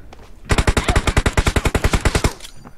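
Rapid burst of SLR rifle fire in a battle royale video game, about twenty close, loud shots in an even fast rhythm, with no talking.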